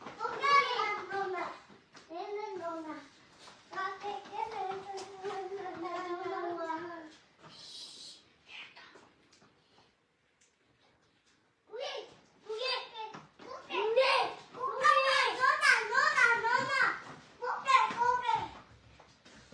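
Kids chatter and call out while playing indoors, their lively voices coming in bursts, breaking off into a brief near-silent pause, then returning louder and more excited.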